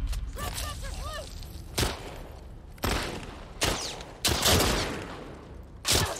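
Gunshots ring out in The Last of Us Part 2, several loud sharp blasts spaced a second or so apart, with a few metallic gun-handling clicks and game noises between them.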